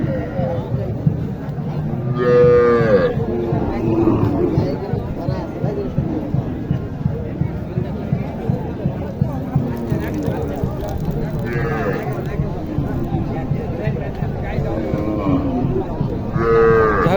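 Desi cow and calf mooing loudly and repeatedly at a cattle market in Naogaon, Bangladesh, one deep call and higher calf bellows among crowd babble and traffic.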